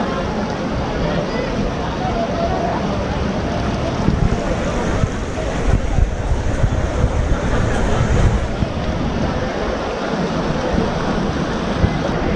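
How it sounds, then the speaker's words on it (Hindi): Fast-flowing, clear Ganga river water at Har Ki Pauri in Haridwar, a steady broadband rush close to the microphone with wind buffeting, continuous for the whole stretch. "बहाव एकदम तेज़ है और पानी बहुत ज़्यादा साफ़ है"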